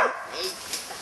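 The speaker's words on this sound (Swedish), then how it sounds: "det är Axa som skäller här" A dog gives a short, fairly faint bark or yip, heard once at some distance indoors, with no speech over it.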